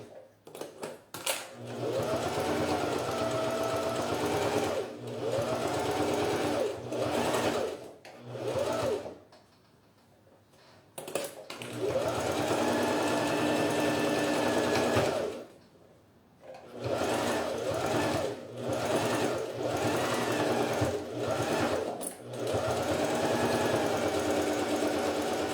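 A domestic sewing machine stitches a fabric toiletry bag in several fast, steady motor-driven bursts, close and fairly loud, with short pauses between runs and no talking.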